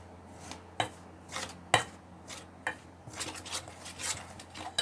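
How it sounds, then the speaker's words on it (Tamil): Cauliflower pakora mix is stirred together with masala and a spoonful of vinegar, producing close, intermittent wet scrapes and soft knocks against a bowl, without speech. "இது எல்லாத்தையும் ஒன்றா நல்லா இப்போ மிக்ஸ் பண்ணிக்கோங்க."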